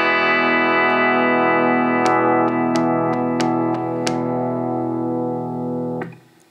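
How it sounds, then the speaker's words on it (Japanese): An electric guitar with a humbucker pickup and an output-lowering resistor switched on rings a sustained strummed chord with several picked notes on top, close and steady, then fades out. "出力を下げることによって、そのハンバーカーのボワーンという良くも悪くも、広がりのある温かみのある音がちょっとキュッと、出力が下がることで締まる音になります"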